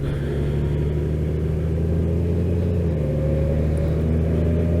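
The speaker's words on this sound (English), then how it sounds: "that trash truck is divine" A garbage truck rumbles past close by, a loud, steady low engine drone that holds for the whole stretch with a slight shift in pitch partway through, and no voices over it.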